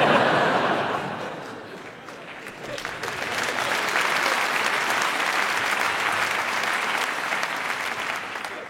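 Audience applause at a stand-up comedy show, a dense, sustained wash of clapping from a large crowd that dips briefly then swells back and holds steady, with faint chuckles mixed in.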